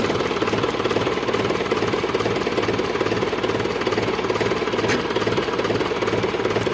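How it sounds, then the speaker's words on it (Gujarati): A 2005 Mahindra 475 DI Bhumiputra tractor's diesel engine runs steadily at idle close by, with a continuous low throbbing rumble. "મહિન્દ્રા કંપનીનું ચારસો પંચોતેર ડીઆઈ ભૂમિપુત્ર મોડલમાં ટ્રેક્ટર"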